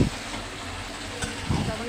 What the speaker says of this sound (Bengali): আমি এবারে সুন্দর করে কষিয়ে নিব।